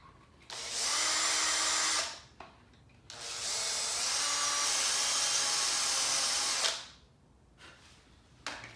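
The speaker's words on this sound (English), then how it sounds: "we'll have to just hog those holes out just slightly there" A power drill whines steadily in two long bursts while enlarging holes in a Scotty downrigger mount plate being fitted to a 2019 Hobie Outback kayak, with brief quiet pauses between runs.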